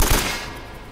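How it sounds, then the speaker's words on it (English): A single loud burst of gunfire in the video game Uncharted hits at once and fades over about a second, close and heavy. "I'm getting shot at again?"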